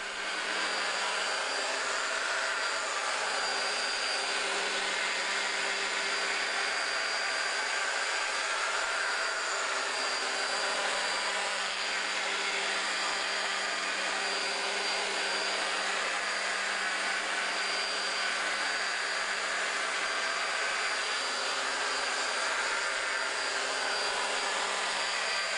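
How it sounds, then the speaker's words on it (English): A polishing machine running at 1200 to 1500 RPM, working polish into a car headlight lens: a continuous, loud, even motor whine and whir with no breaks, alone throughout. "set the machine to 1200 or 1500 RPMs, and work in the polish."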